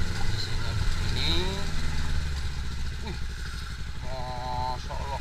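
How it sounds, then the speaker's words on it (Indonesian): A motorcycle rides along a damaged village road, its mid-pitched engine droning steadily and loudly up close, with bumps and rattles and voices talking over it. "naik motor itu anak sampai ngerem ngesot-ngesot, nggak pakai helm lagi"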